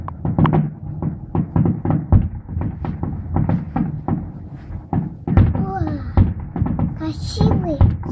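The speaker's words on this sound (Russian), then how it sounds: "Красивый салют." New Year fireworks in Bormio pop and thud repeatedly in the distance, with whistling rockets rising near the end, while people talk and exclaim nearby.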